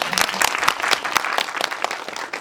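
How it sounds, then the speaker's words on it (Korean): An audience at a Korean film screening and talk for "Cassiopeia" at the Korean Film Archive cinematheque applauds the director, with brisk, dense clapping and sharp individual claps standing out, steady to the end. "감독님께 박수 한번 부탁드립니다."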